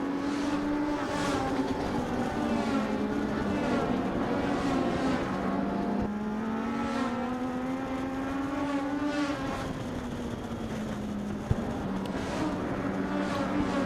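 Legend race cars with center drive chassis race around Havasu 95 Speedway, their engines droning steadily and rising and falling in pitch as the pack passes, loud and continuous with no break.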